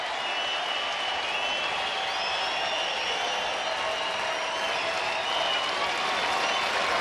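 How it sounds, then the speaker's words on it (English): A baseball crowd at Progressive Field stands and applauds, a sustained wash of clapping and cheering that fills the ballpark evenly throughout, with faint talk mixed in. "crowd's on its feet here at Progressive Field"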